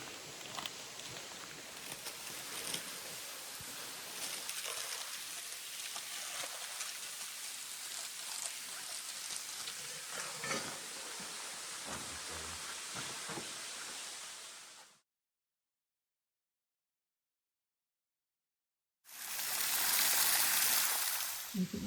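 Steady broadband rush of falling water from waterfalls along a forest trail at Big South Fork, Tennessee, continuous and fairly close, cutting to silence before a louder burst of rushing water returns.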